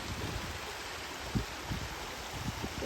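A small river in the Scottish Highlands flows with a steady, soft rushing wash, with a few faint low knocks or thumps scattered through it and no voices.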